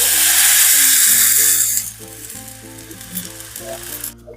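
Water poured into a hot, spiced oil tempering with coriander leaves gives a loud, hissing sizzle, made while cooking pithla. The sizzle is sharp for about a second and a half and then dies to a faint bubbling, with a low hum underneath.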